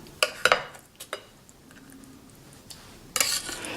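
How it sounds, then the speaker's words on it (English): Pieces of chicken dropped into a large frying pan, a few sharp clattering knocks of food and utensil against the pan, then a louder burst of clatter near the end, all close and without talk. "Now I'm putting this directly into my large frying pan"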